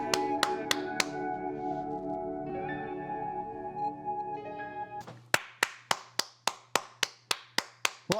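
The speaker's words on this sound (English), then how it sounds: "Royal clap." A single person's hand claps ring out sharply near the close: about eleven crisp, evenly spaced claps in a steady rhythm, following a stretch of music with a few earlier isolated claps over it.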